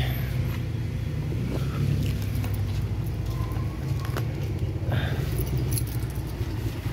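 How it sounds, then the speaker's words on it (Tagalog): Keys to a small neighborhood store jangle close by in short metallic bursts over a steady low rumble of passing traffic. "Dito yung susi."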